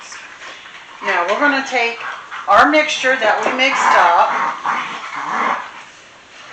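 Playful dogs yip, whimper and bark excitedly indoors in overlapping bursts, loud and close, while a person talks over them.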